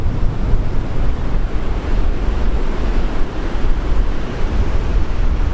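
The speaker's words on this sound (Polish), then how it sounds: "I spora bryza od morza, ale fale też są spore." Sea waves rolling onto the beach at Łeba on the Baltic coast under a strong onshore breeze, a steady loud roar of surf mixed with wind buffeting the microphone, continuous throughout with no voices.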